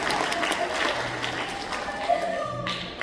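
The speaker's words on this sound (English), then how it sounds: "Give them a round of applause." Students are applauded at a school concert: fairly faint, scattered clapping from the audience with some murmured voices underneath, tapering off toward the end.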